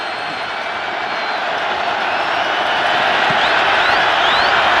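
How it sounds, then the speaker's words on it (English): A large football stadium crowd at a Bills vs Broncos wild card playoff game roars in a steady, dense wash of cheering and clapping that swells slightly louder toward the end, with no talk over it. "the crowd getting whipped into a frenzy now"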